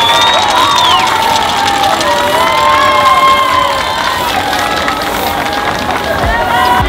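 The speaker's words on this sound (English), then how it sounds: "It's so cool the way they're cheering the people who are cleaning up after the parade." Crowd cheering and whistling at an Independence Day parade in Mexico City, a loud, steady roar of many voices with shouts and high whistles rising over it throughout.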